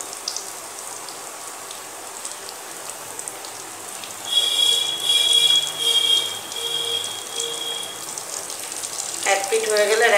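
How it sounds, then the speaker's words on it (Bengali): Battered Kolkata-style fish fry pieces crackle in hot oil, a dense rain-like sizzle that swells partway through and holds steady, with a faint high whine in the background. "আমার তেলটা গরম হয়ে গেছে, আমি এখন এগুলো ফ্রাই করে নেব"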